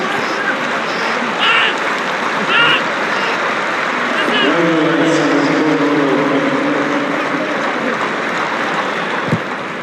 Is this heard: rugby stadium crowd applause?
yes